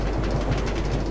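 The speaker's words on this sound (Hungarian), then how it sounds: "És akkor Varázslóföld felé, itt indul a vonat." An electric M1 metro train in a video game rumbles as it pulls away, a loud, close, steady low roar with faint rhythmic rattling, no one speaking.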